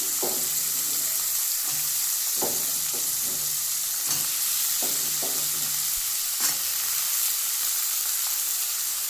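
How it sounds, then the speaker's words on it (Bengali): Diced potatoes sizzling steadily in a hot pan with oil, with repeated scraping stirs of a spatula against the pan, close and continuous without talk. "আলুগুলো দিলাম আমি ছুটো ছুটো করে আলু কেটে রেখেছিলাম"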